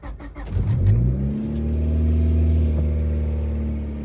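A 1997 Honda Civic LX sedan, bone stock and sitting in freezing cold with low voltage, cranks briefly, catches and fires up, then holds a steady, fairly loud idle with a slight rise in revs, with no talking.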